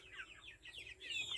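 Chickens clucking and squawking in quick, repeated calls, fairly close, with a light background hum, while eating ipil-ipil as a snack.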